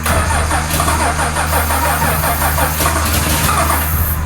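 An old car engine on an Australian project car is cranked to start, giving a loud, continuous churning drone with a rapid, even rhythm that holds steady throughout at close range.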